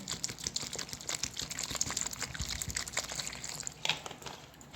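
Water pouring over freshly cut wild mushrooms in a bowl to soak them, a close, busy splashing and trickling with small clicks and drips that run throughout the clip, with no talking.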